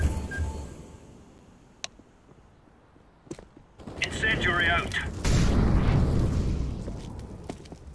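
Incendiary grenade thrown and bursting into flames in the video game CS:GO, a sudden loud whoosh swelling into sustained crackling fire over several seconds, preceded by brief clicks and pops, with faint voices nearby.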